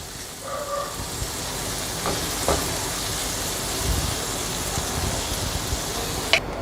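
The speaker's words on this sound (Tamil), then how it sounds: "இதை கொஞ்சம் எண்ணெய் லேசாக விட்டு இப்போ நம்ம வந்து ஃப்ரை பண்ணணும்." Paneer tikka fries in a little oil in a pan over medium heat, a steady soft sizzle close by with a few faint clicks.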